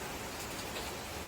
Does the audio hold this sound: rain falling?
yes